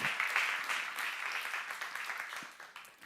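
A church congregation applauding during a sermon: steady, dense clapping from many hands that holds through the clip and thins slightly toward the end.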